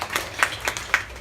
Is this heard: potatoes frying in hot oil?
no